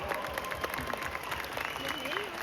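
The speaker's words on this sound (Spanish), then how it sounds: "mi querido y admirado Raúl Anaya, para que pido un fuerte aplauso" Audience at a Expo Kipon convention stage applauding, a steady dense clatter of clapping with faint crowd noise throughout.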